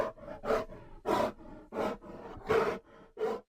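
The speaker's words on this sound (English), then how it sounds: "Yeah, that's a bear." A bear roaring in Appalachian woods, a series of deep, rough bellowing calls in uneven bursts, loud and fairly close, with brief pauses between them.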